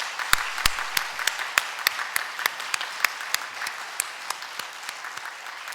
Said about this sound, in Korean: 우리 환영한 박수 크게 한번 하시겠습니다